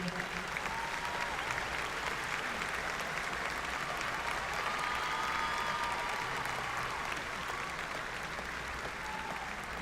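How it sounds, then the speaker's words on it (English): At a Southern Illinois University Carbondale spring commencement ceremony, a large crowd applauds the standing faculty with a long, even wash of clapping that stays at a constant, moderate level throughout. "Could you give them a big round of applause?"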